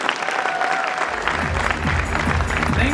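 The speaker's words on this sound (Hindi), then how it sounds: "जोरदार ताली बननी चाहिए सर के नाम।" Loud, dense audience applause fills the hall for a guest honoured at a business success event, steady clapping throughout with crowd voices and cheers joining in.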